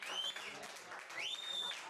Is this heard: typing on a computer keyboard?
no